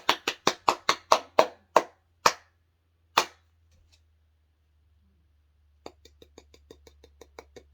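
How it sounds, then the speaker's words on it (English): One person applauding, about nine sharp, close hand claps in a quick burst that trail off, then a pause and a quieter run of light ticking taps. "if you can't hear that, it's me applauding"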